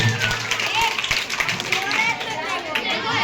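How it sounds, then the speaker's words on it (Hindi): Audience clapping for a student at a school Republic Day (26 January) prize ceremony, a steady burst of applause with children's chatter and a speaking voice mixed in throughout. "जोरदार ताली"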